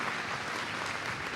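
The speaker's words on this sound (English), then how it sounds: "yes, a round of applause." Audience at a law school commencement ceremony applauding, a dense, continuous wash of many hands clapping at once, steady and moderately loud throughout the short stretch.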